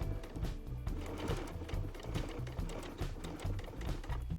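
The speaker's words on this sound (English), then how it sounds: "I'm just doing a top stitch at both edges of the strap" A sewing machine runs a top stitch along both edges of a skirt strap, a fast steady mechanical rattle that carries on continuously, close and alone.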